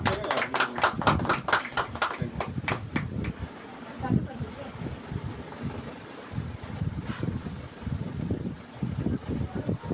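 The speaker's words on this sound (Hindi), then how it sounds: "आप सबों से ताली बजा के स्वागत करें" An audience at a house meeting claps to welcome a speaker, bursts of fairly close clapping at first that thin into scattered claps, mixed with wind-like noise and some talk.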